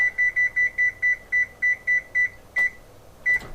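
An oven's control panel beeps repeatedly while a 425-degree preheat is set: ten short, evenly spaced electronic tones, then two slightly spaced final beeps, loud and close with no talking.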